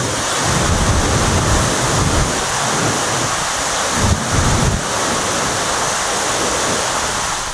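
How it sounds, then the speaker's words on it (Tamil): Aliyar Kavi Aruvi waterfall in sudden flood after heavy rain, the water having broken through the barrier fence, roars with a loud, steady, broadband rush that fills the whole clip with no talk. "ஆழியார் கவியருவியில் திடீர் வெள்ளப்பெருக்கு ஏற்பட்டு தடுப்பு வேலியை உடைத்து தண்ணீர் ஆர்ப்பரித்து கொட்டியது."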